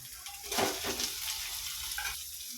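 Onions dropped into a hot frying pan, a soft burst of sizzling that swells quickly and then settles into a quiet steady crackle, faint and close.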